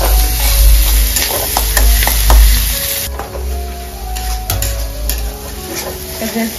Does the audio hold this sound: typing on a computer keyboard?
no